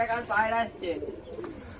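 Madras pigeons coo softly in a low, throaty murmur at close range, partly overlapped by a person talking nearby.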